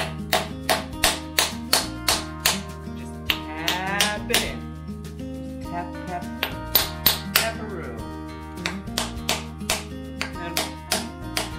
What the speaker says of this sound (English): you can pretty much just tap it with a hammer